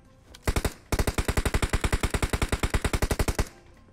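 Rapid automatic gunfire from PUBG Mobile: a single shot, a short gap, then a steady run of about twenty-five evenly spaced loud bursts lasting nearly three seconds, with no talk over it.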